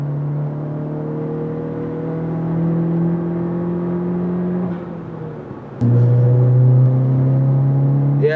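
A car fitted with a 27WON W2 turbo kit and running on 91-octane fuel accelerates hard. The loud engine drone climbs steadily in pitch, dips briefly at a gear change, then pulls again, heard from inside without talk.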